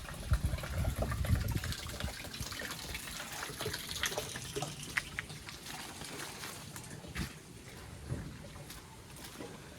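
Tap water runs steadily from an open faucet into a snail-rearing tank, a continuous splashing gush with some fluctuation, close and fairly loud, with no talk.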